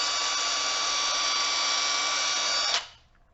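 A cordless drywall screwgun runs with a steady, loud high-pitched whine and squeal, holding level for nearly three seconds before cutting off and spinning down.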